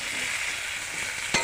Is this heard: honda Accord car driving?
no